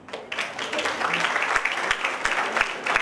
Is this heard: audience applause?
yes